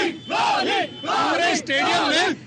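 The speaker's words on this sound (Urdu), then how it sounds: "یہ پاکستان کے لیے نعرے لگا رہے ہیں" A cricket fan at a Pakistan World Cup match chants slogans in three loud, close, drawn-out bursts with short pauses between, the voice rising and falling in a rhythmic yelling cadence.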